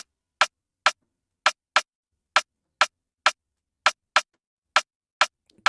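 A basic snare drum sample programmed in FL Studio for an Afrobeat, sounding as eleven sharp, dry hits in a loose repeating pattern with silence between them.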